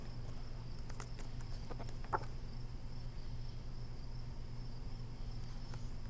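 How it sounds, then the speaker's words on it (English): Crickets chirp at night in a steady, low-level chorus with a constant high trill running throughout, plus a few faint scattered clicks and rustles, with no voices. "The crickets sing their song, their nighttime friends their audience, from moonrise until dawn."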